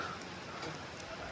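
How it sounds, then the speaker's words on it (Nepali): Rain falls steadily nearby as a continuous, even hiss that holds at the same level throughout, with no clear individual drops standing out. "अनि अर्कोतिर चाहिँ छैन सायद यतै मात्रै पानी पर्दैछ"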